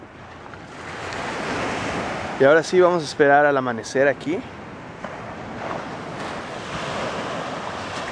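Steady roar of ocean surf on a beach at night with wind noise runs throughout, while a person speaks briefly in Spanish in the middle over the waves.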